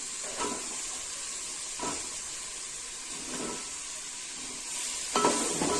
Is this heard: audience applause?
no